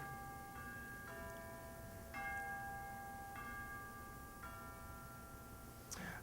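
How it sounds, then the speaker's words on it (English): Church bells ring somewhere down the road, faint and distant, with several clear tolls spaced about a second apart over a low background hum. "Down the road, the bells sounded."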